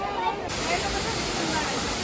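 Kapildhara waterfall cascading near a temple, a steady broadband rush of falling water that swells in after a quieter opening, with a faint hubbub of visitors' voices mixed in.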